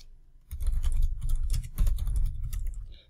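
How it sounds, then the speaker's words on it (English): Fast, close-up typing of a password on a computer keyboard, a dense run of crisp key clicks starting after a short quiet moment and continuing steadily for about two and a half seconds. "I will enter the password twice."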